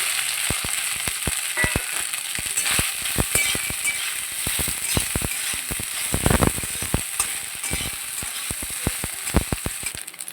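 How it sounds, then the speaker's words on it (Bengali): Soybean chunks and dried red chillies fry in hot oil, with a continuous close sizzle broken by frequent sharp spattering pops and crackles throughout. "শুকনো লঙ্কা দিচ্ছি সোয়াবিন দিয়ে শুকনো করলাম সয়াবিনটা দিয়ে দিচ্ছি"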